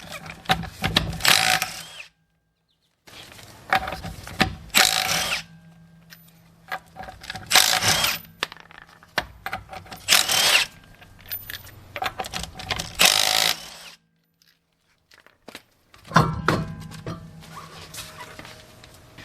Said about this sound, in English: You can go ahead and remove the wheel.